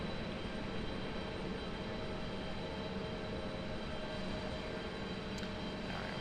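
An Airbus A321neo jet at Raleigh-Durham airport gives a steady, fairly faint engine roar as it taxis or departs. The drone holds even throughout with no talk.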